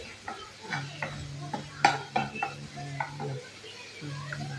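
A spoon stirs frying potatoes in a pan on a gas stove with uneven scraping strokes and sharp clinks against the metal, over a low steady hum.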